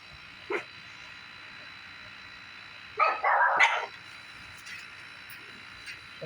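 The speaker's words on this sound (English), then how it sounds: "my dogs always go to bark in every freaking video I ever make" Dogs barking during a night of lightning without thunder or rain, one short bark followed later by a loud cluster of rapid barks, then quieter, over a steady background hum.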